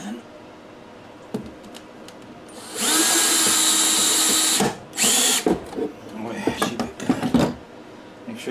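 A power drill drives 1-inch screws into a 1.25-inch-thick drawer front during cabinet installation, with a sustained whirring burst of about two seconds followed by shorter spurts and clicks, close and loud, amid light workshop handling noise.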